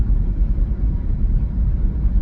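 A short stretch of loud, steady low rumbling comes from a car that is running bumpy and needs maintenance. The drone is dense and continuous, with no voices.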